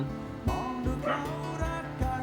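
A dog barks and yips in sharp repeated bursts, fairly close, with a steady background hum beneath and some faint talk mixed in.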